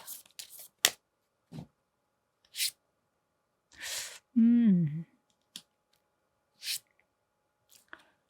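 Tarot cards shuffled and laid out during a love reading: a series of short, crisp card snaps and slaps at irregular intervals, close and fairly quiet, with a brief voice-like tonal sound in the middle.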